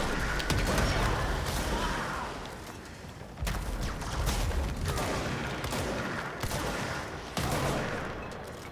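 Loud, dense gunfire in the video game Control, a sustained barrage of rapid shots and crashes that fills the whole stretch with only brief dips.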